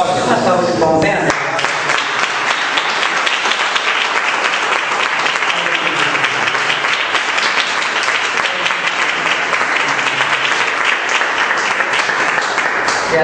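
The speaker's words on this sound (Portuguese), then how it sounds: "Uma salva de palmas, né?" A church congregation in Minas Gerais breaks into loud, sustained applause after a sermon, a full roar of clapping that begins abruptly and continues evenly, with voices mixed in.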